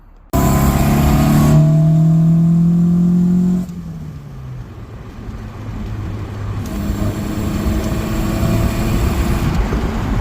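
Datsun roadster with an E85 flex-fuel EFI conversion, its engine loud and close at first, then dropping to a softer steady drone with road and wind noise as it drives along with the top down in cold weather.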